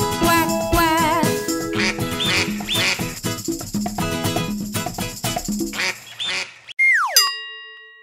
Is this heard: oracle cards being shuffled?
no